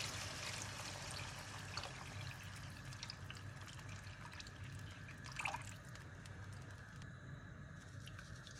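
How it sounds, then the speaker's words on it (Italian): Water runs and trickles steadily into a pot of Neapolitan pasta and potatoes, a continuous liquid pour with a brief splashy burst midway, fairly quiet and close. "Ora aggiungiamo l'acqua"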